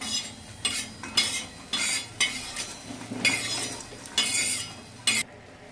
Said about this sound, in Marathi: धण्याला काही जास्त भाजवायचं नाही आपल्याला धने पण आपले भाजले गेलेले आहेत लगेच आपल्याला धने पण काढून घ्यायचे